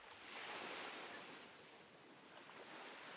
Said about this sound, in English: For a moment, there was only the sound of the waves in the distance.